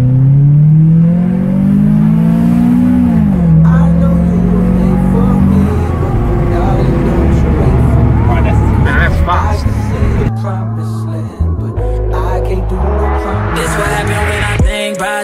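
A front-wheel-drive car engine revs hard on a closed road during a drift run, pitch climbing and holding in a loud, sustained drone before dropping and stuttering through gear changes and lifts, with music-like tones mixed in later.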